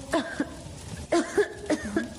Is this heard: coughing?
yes